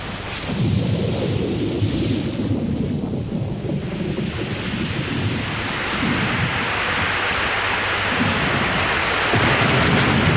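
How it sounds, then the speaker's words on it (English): Heavy rain pours steadily in a dense, loud wash, with deep rolling thunder rumbling underneath throughout and no voices. "I can feel a storm coming."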